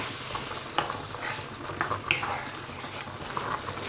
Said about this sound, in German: Und kurz danach gebt ihr einfach 200 ml Reismilch dazu. Rührt es ein bisschen durch.